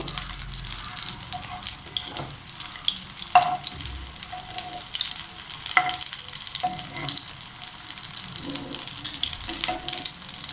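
A quick potato snack shallow-frying in oil in a pan, a continuous crackling sizzle close by, punctuated by occasional knocks and scrapes of a utensil, with faint watery hiss underneath and no talking.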